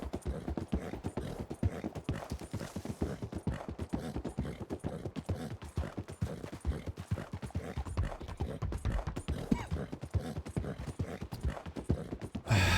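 Horse hooves clip-clop steadily in Red Dead Redemption 2, a rapid, even rhythm of sharp hoof strikes sustained throughout, close and clear with no talk over it.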